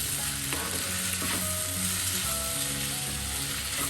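Sliced snake gourd stir fry sizzling and being stirred in a pan, a steady low crackle with scraping strokes of a spoon against the metal, with faint tonal background music throughout.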